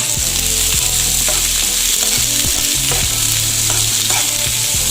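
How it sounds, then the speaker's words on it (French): Sliced onions frying in a little vegetable oil in a pan, with a steady close sizzle and crackle and occasional stirring scrapes throughout. "On va commencer à frire les oignons."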